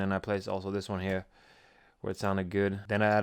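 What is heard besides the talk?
No distinct noise like a dog, phone or traffic.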